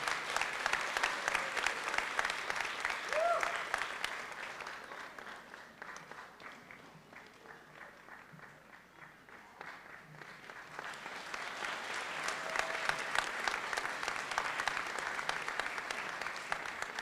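Sustained applause from a large audience at a spring graduate school commencement ceremony, dense steady clapping that swells and dips slightly over about seventeen seconds, heard from a distance in a big hall.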